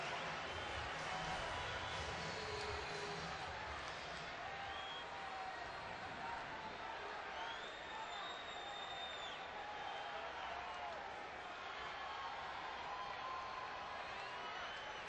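Baseball crowd at a stadium grumbling and booing over repeated pickoff throws to first base, a steady distant roar of many voices rising and falling throughout, with a commentator's voice faintly heard.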